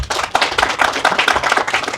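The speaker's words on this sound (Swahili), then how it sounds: "Kwa piga makofi mengi sana kwa Lexon Tent" An audience at a career-advice talk bursts into loud, dense clapping for Lexon Tent, a close, continuous round of applause with no pauses.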